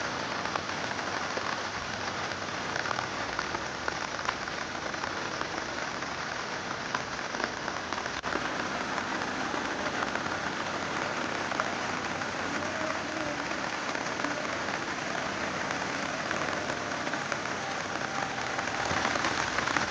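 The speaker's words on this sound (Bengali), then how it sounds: "বৃষ্টি পড়ছে নদীর মধ্যে" Steady rain falls on a river, a dense, even hiss of drops that continues without pause, with no voices.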